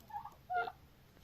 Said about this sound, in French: Vous avez ici les dindes.